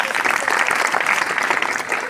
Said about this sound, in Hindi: इन चार विद्यार्थियों को अपने विद्यालय के अंदर लैपटॉप के लिए चयन हुआ है, इसके लिए जोरदार तालियां।